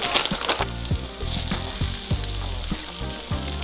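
Vegan cheesesteak filling sizzles and fries in a pan, a steady crackling hiss broken by soft stirring scrapes and clicks, close and moderately quiet with no voices.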